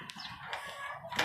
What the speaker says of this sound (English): My pet white bird.